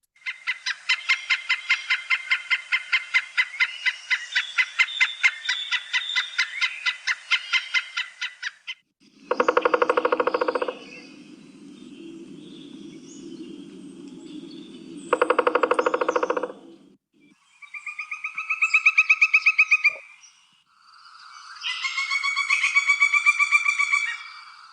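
Pileated woodpecker, a large red-headed bird, giving a long run of rapid repeated calls followed by several separate loud call bursts, fairly close and clear against a quiet background.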